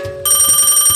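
A telephone bell rings with a bright, rapidly trilling electronic tone that starts abruptly and continues loud and close, with no talking over it.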